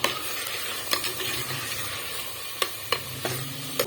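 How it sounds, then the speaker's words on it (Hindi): Beef for a karahi sizzles and fries steadily in a hot pan with ginger-garlic paste, with occasional sharp clicks and scrapes as it is stirred. "इसको मज़ीद जो है भूनेंगे"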